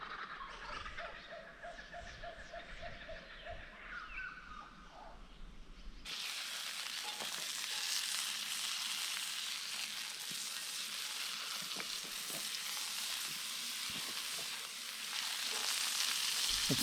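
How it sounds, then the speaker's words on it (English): A steak hits a hot frying pan in a video game, loud steady sizzling taking over after a few seconds of quieter outdoor ambience and lasting to the end. "It's time to roll that steak on that hot frying pan and cook that fat up nicely"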